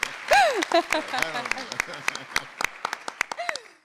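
At an education panel with ministers of education, a small audience claps in sparse, uneven bursts that thin out and fade, while a voice speaks over the opening moments.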